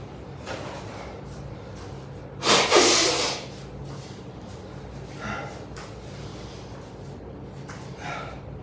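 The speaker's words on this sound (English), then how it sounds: "Forgive the sound of me blowing my nose." A person blows their nose once in a short, loud, breathy burst during an upper thoracic mobility session, with a few faint rustles and movements on either side and no talking.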